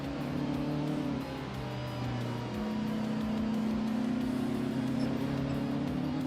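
Honda, Alfa Romeo and Volkswagen race cars running together on a tight-cornered track, several engines droning and shifting pitch in a steady, continuous roar with no talk.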